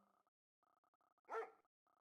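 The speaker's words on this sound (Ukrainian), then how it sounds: "Три пса." Dogs barking in the strategy game Red Alert 2: Yuri's Revenge, one short clear bark burst amid quiet, clipped game interface blips before and after, no talk.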